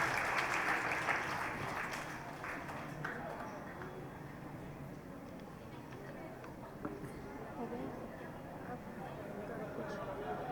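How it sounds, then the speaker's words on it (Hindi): Applause from children in the audience at an Independence Day cultural program at a girls' college in Karol Bagh, steady dense clapping at moderate distance with faint chatter mixed in, tapering slightly but continuing throughout. "बच्चों जोरदार तालियां बजाइए"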